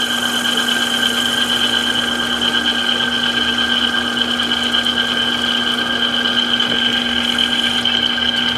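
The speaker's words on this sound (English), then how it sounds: "I drilled it, so now I'm boring it." Machine shop lathe boring out a drilled sleeve, a steady whining tone with a constant high pitched hum and sustained cutting noise, loud and close with no talking.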